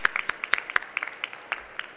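Scattered clapping for prize winners at an environmental innovation awards ceremony: a modest audience claps in separate sharp, irregular claps, fairly close and clear, with no voices.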